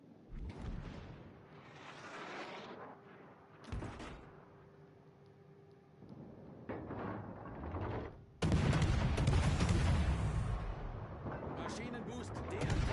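Destroyer guns fire at a target in the naval combat game World of Warships, heard as repeated booming salvos and bursts that grow louder and denser toward the end, with a German voice-line callout among them.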